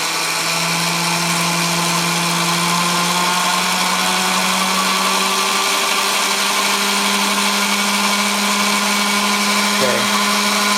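A small 9-volt electric drill motor spinning at full speed, whirring loudly at a constant high pitch, a steady unbroken whine with a slight shift in tone partway through.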